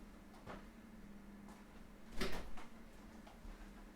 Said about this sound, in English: I'll just close the door for now and deal with that later.